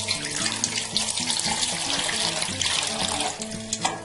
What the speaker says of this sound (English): now I'm going to wash my face, which I'm going to do with a bowl instead of the cup